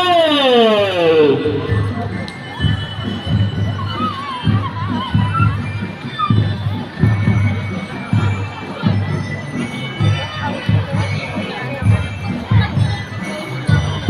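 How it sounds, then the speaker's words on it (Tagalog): A crowd of schoolchildren and spectators cheers and claps at a district elementary school athletic meet in Bocaue, a dense, continuous roar of shouting and applause with voices mixed in. "Pero mukhang mas malakas ang palakpakan"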